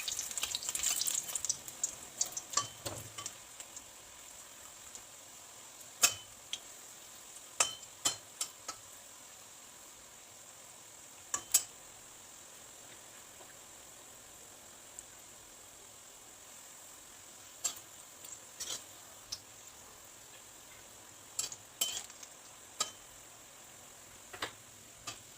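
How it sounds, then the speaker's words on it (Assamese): Carrot pieces fry in a pan for a carrot sweet with a steady soft sizzle, punctuated by scattered sharp clinks and scrapes of stirring, close by with no talk. "এনেদৰে গোটেইকেইটা ভাজি ল'ব"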